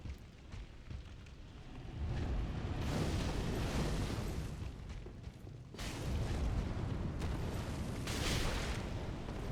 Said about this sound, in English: all of those orbs are shooting fireballs at me